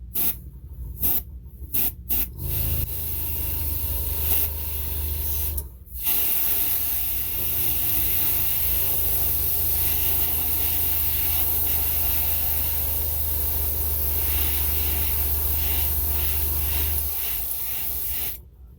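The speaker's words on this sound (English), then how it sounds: "Take your time and just hit it really slow, light coats." Spray paint hisses steadily onto a Hot Wheels car in slow, light coats, starting with a few short bursts and then running as one long continuous spray.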